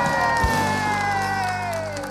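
A crowd at a festa sertaneja applauds and cheers, a steady roar of clapping and shouts with sustained musical tones ringing underneath.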